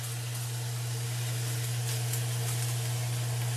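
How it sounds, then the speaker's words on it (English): Garlic-infused butter sizzles steadily in a hot pan, a continuous soft hiss with a low hum beneath and no talking. "I'm going to put in some of my garlic infused butter"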